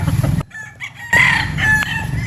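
A Boston Roundhead gamecock crows loudly and close by, a single drawn-out crow rising and then holding steady, with clucking from other fowl before it.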